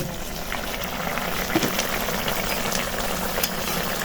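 Fish cooks in hot oil in a pan, giving a soft, continuous bubbling sizzle with faint occasional pops, heard fairly quietly and alone.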